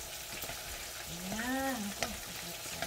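Ginisang ampalaya, a bitter melon dish, sizzles and bubbles softly in a pan, a steady frying crackle under a brief spoken word.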